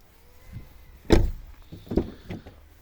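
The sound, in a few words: car door being opened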